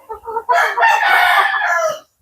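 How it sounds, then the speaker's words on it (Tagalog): A fighting cock crows once, loud and close, in a backyard coop. A few short clucks come just before the long, strained crow. "Dito na lumipat yung mga manok. Ito yung manukan."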